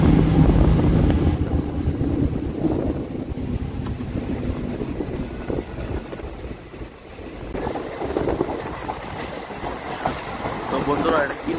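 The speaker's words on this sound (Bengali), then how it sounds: "তো আমাদের এই ট্রেন এখন শান্তিবাজার স্টেশন থেকে ডিপারচার হয়ে গেল।" A nearly empty local passenger train pulls away from Shantibazar station in Tripura, its steady low rumble and rolling wheel noise continuous throughout, with wind buffeting and a faint voice over the running train.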